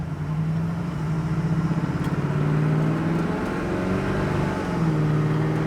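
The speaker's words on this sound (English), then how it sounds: "Tranny shifts perfectly." A 1969 Chevrolet Camaro SS accelerating from inside the car, a loud, steady engine drone whose pitch rises and then drops as the transmission shifts gears.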